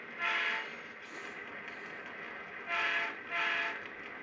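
A model Cotton Belt train rumbles steadily along the track, shoving cars with a continuous mechanical drone, broken by two or three louder hissing bursts, no talking.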